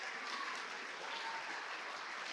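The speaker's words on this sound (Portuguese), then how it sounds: "Vamos aplaudir ao Senhor por isso." A church congregation applauds in praise during a sermon, a continuous wash of many hands clapping at moderate level, steady and unbroken throughout.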